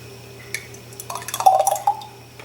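Freshly made yogurt from an Instant Pot being poured into a jar, a short sequence of soft drips and wet plops growing busier midway, close and quiet against a faint steady hum.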